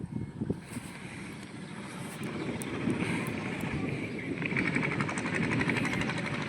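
Strong wind gusts through a village during a rainstorm, a mini cyclone soaking cattle fodder, producing a low roaring rumble of buffeting air against the microphone that swells louder partway through and stays rough and gusty.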